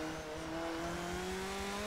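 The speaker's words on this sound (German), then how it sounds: "Man hört, dass der Nissan nur einen Vierzylinder hat." A Nissan with a four-cylinder engine in the Forza Motorsport 7 racing game, holding a steady rising drone of engine revs with a faint tonal whine, continuous and mid-level, with no talk over it.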